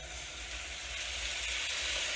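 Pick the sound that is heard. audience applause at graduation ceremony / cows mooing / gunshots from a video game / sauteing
sauteing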